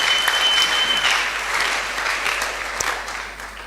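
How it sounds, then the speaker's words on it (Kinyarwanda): Loud, sustained clapping from a church congregation during a Sunday service, a thick wash of hands that tapers slightly toward the end with no voices over it. "Let us applaud the Lord and praise him again."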